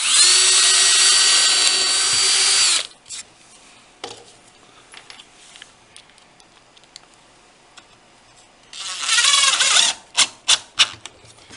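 Power drill driving screws into a shop-made wooden dowel jig, a loud close whine at the start, quiet handling clicks, then another drill run ending in several short trigger pulses.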